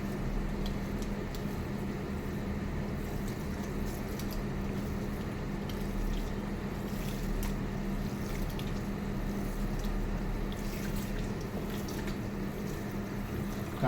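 Water runs steadily through a hair wash session at a salon basin, a continuous close splashing flow with no talk over it.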